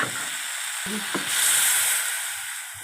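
Water splashes into turmeric and spices frying in a pan for a jujube (kul) chutney, with a few light clinks, then a loud hissing surge of steam that gradually fades.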